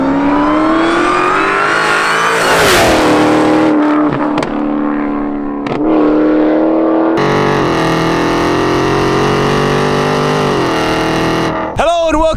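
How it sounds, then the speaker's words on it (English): A 2016 Dodge Challenger SRT Hellcat supercharged V8 on cold start, a loud nearby engine with a high fast idle rising and settling, a few revs and shifting tone throughout. "But for you guys, cold start."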